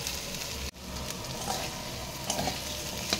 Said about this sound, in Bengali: আর এই সব কিছু সবজিও ভালো করে ভাজা হয়ে যাবে।